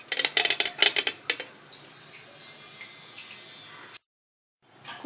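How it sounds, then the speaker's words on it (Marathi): Steel pot and lid being set onto a preheated pressure cooker, used without its rubber gasket or whistle for baking a banana sponge cake: a burst of close metallic clanks and clinks, then quieter shuffling and a brief pause. "कुकरचं झाकण लावून घेऊया।"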